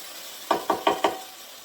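Chopped onions hitting a hot soup pot for a Tuscan chicken and white bean soup, giving four quick sizzling bursts in a row at close range, each fading fast, with no talking.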